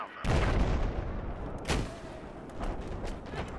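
Battlefield 4 video game gunfire: a loud burst of shots opens, then scattered heavier reports and rumbling blasts follow at irregular intervals in a noisy battlefield mix.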